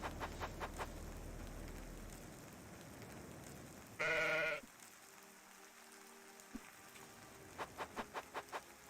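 Sheep in the top-down game Necesse bleat in short bursts: several quick faint calls at the start, one louder sustained bleat midway, and another run of soft calls near the end over light ambient patter.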